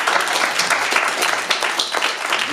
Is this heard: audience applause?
yes